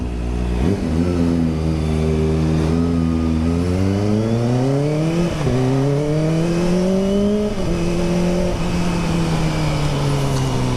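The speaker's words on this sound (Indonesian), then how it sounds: "knalpotnya nggak terlalu bunyi ya, jadi tidak terlalu mengundang." A Kawasaki ZX25R motorcycle's exhaust sounds close and loud as the engine runs at a high pitch, with several rising revs and gear changes heard in sequence, and no voices over it.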